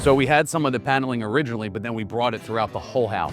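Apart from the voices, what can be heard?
voice reverberating in large high-ceilinged room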